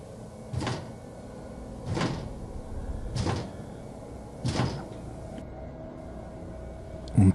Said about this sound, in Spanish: Era un sonido rítmico, como si alguien estuviera empujando suavemente la puerta de madera y la reja asegurada por el candado.